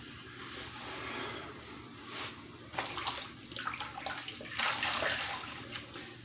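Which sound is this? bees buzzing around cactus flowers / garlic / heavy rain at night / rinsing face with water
rinsing face with water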